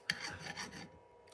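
A hand file rasps across metal at a small forge on a rainy day, with a few close, scratchy strokes in quick succession and then a pause before another begins, no voices.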